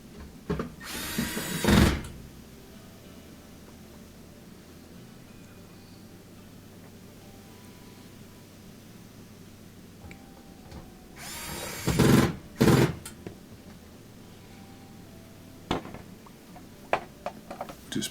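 A power drill drives screws into the front panel of a Whirlpool washer, with two loud whirring bursts spaced apart and a few shorter ones, close by, and quiet stretches between.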